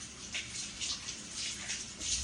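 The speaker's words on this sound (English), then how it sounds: "Let me rinse the hands off again." Tap water runs briefly and softly over hands being rinsed at a kitchen sink, a faint continuous splashing hiss with no voices.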